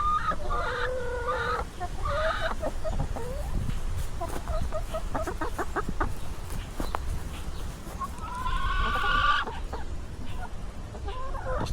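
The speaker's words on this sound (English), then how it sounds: "How are you doing, chickens?" Chickens cluck and chatter nearby in repeated short bursts and rising calls over a low background hum, with no one talking.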